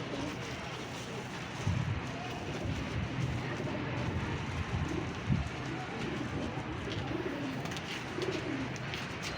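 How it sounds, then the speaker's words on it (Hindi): Pigeons cooing in soft, repeated low murmurs amid a dense, steady background of outdoor noise, faint and somewhat masked. "बेशुमार कबूतर हैं"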